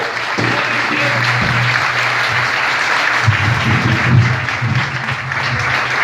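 A church congregation applauds during a worship service, a continuous, even roll of many hands clapping at steady volume, with a low murmur of voices underneath.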